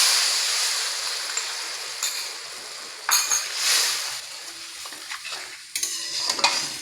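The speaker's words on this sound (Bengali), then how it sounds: "বাটিতে যে সসটা আমরা আগে থেকে রেডি করে রেখেছি সেটা আরেকবার চামচ দিয়ে খুব ভালোভাবে মিশিয়ে নিচ্ছি" A spoon stirs soy chilli sauce in a bowl, with a hiss of frying in the background and a few light clinks and scrapes of metal against the dish, close and moderately loud.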